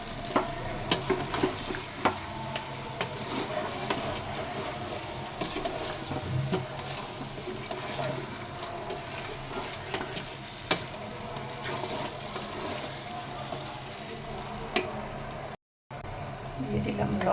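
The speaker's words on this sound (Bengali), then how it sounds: "চিকেনটা ভালোভাবে কষিয়ে সাথে আমি হালকা আলুও ইউজ করব।" Chicken with potatoes being fried and stirred in a pan for chicken korma, a continuous close sizzle with scraping and clattering stirring strokes throughout, and a voice talking over it now and then.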